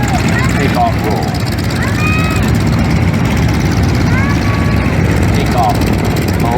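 A vectored-thrust jet aircraft with four rotating nozzles takes off at a Marine Corps air show, a loud steady roaring engine wash that fills the whole stretch, with a narrator's voice running over it.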